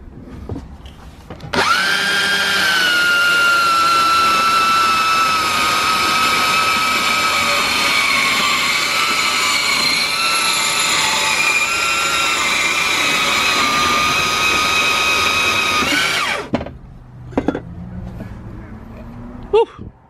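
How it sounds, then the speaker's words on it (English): A Makita bandsaw cutting metal while building a homemade bandsaw setup, a loud continuous whining saw tone running steadily for about fifteen seconds before cutting off, followed by brief clatter. "DIY homemade bandsaw using a Makita bandsaw."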